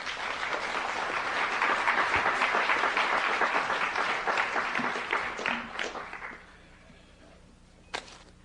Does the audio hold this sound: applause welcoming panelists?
yes